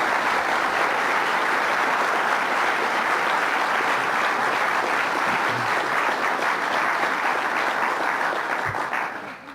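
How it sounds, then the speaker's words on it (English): An audience applauds at an official event, a dense, steady roar of clapping that holds loud throughout before tapering off at the very end. "Jim and Marilyn Simons, let's give them a round of applause"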